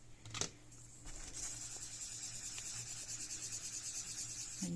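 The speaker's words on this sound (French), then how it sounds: "J'en mélange avec mon estompe." Oil pastel colour being blended with a paper stump on paper, a soft dry rubbing and scratching that comes in short strokes, quiet and close with no talking.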